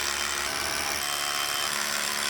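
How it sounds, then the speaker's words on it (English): DeWalt SDS drill boring anchor holes for a welded staircase, a continuous high whining hammer drone that holds steady and loud throughout the short burst, with no voices. "We got to drill some holes for the anchors."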